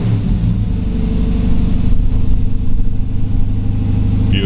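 A 1956 Chevrolet 4400 1.5-ton resto-mod truck engine runs steadily at fast idle, a close, loud, even low rumble with a faint rhythmic pulse throughout and no talking.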